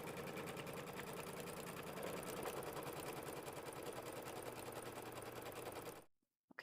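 An embroidery sewing machine runs a tack-down stitch through quilt batting for a mini quilt, giving a quiet, continuous rapid mechanical chatter that holds steady for about six seconds and then cuts to silence.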